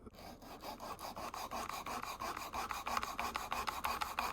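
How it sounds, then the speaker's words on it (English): 240-grit sandpaper is rubbed across a saddle brown leather iPhone 12 case in quick, even back-and-forth strokes, a close, steady rasping rhythm of several strokes per second with no talking. "now we're going over to the fun part with the sandpaper. Because I'm gonna use the 240 grit right now."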